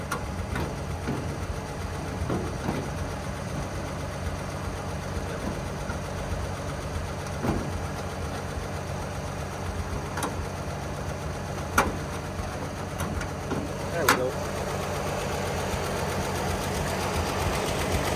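1954 Chevrolet Bel Air engine idling with the hood open, a quiet, even mechanical hum with faint ticking and a few sharp clicks scattered throughout.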